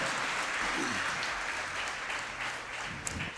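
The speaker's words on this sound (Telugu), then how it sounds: "గట్టిగా చప్పట్లు కొట్టి ప్రభుని స్తుతి చేస్తాం" A church congregation at a Tuesday Telugu Mass at St Anthony's Shrine, Mettuguda, claps loudly and steadily in praise, a dense, sustained roar of applause throughout.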